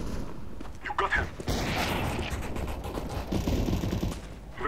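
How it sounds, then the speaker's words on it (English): Gunfire from a CS:GO match, a busy stretch of rapid shots and bursts with a sharp crack near the start, played under continuous voice chatter. "Very good shot."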